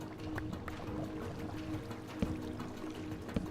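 Steady flowing water in a Minecraft cave cavern, a continuous low wash and trickle at moderate distance with a couple of faint knocks, no talking.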